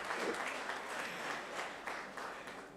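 An audience applauds at a chemistry department conference, a steady wash of clapping from many hands held at moderate volume through the whole stretch, with no speech on top.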